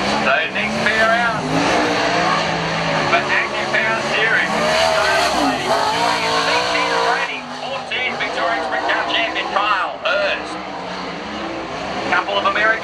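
American race cars running time trials at Avalon raceway, engines droning and revving continuously at close range beneath steady commentator talk.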